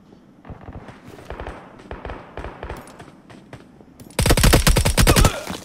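Gunfire aimed at the player in the shooter game PUBG: scattered shots at first, then a loud, sustained burst of rapid automatic fire close by at the end.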